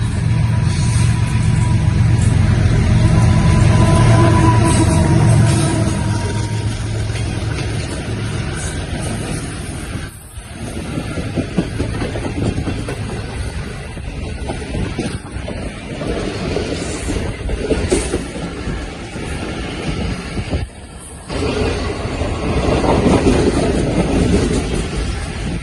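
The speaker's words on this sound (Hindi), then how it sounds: "तो ये थी आज की हमारी 15 अप कराची एक्सप्रेस" The 15 Up Karachi Express passes the Wireless Gate level crossing near Malir Colony station, a long, loud rolling rumble with wind buffeting the microphone, continuous throughout and without talk.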